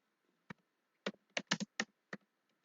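Quiet, close keystrokes on a computer keyboard while writing code in a Jupyter notebook: a single tap, then a quick irregular burst of six or seven clicks and two more scattered taps, with no talk.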